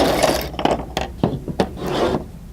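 A dull wood-carving knife gets a fresh edge through a series of short, rasping scrapes, about half a dozen uneven strokes separated by brief pauses.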